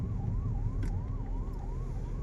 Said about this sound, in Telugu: ఇప్పుడు ఇలాంటి పరిస్థితుల్లో అంబులెన్స్ వస్తుంది.